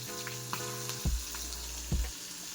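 Crushed garlic cloves and cut green chilies frying in a pan of hot oil, a soft continuous sizzle with a few louder bursts of crackle, no talking.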